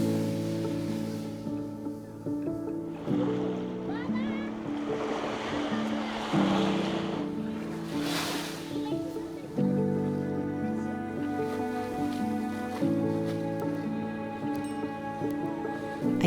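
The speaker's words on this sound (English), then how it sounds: "The sound of the waves was calming" Mediterranean surf on a beach in Syria washes in steadily, with waves rolling and breaking close by beneath a low sustained tonal drone.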